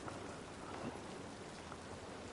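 Steady rain falls in The Last of Us Part I, a dense, even hiss of drops spattering on surfaces with no pauses and no voices.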